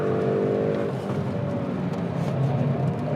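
Hyundai i30 Fastback N hot hatch at speed on the Nürburgring, a loud sustained engine drone with a steady pitch and rumbling road and curb noise underneath, close and continuous.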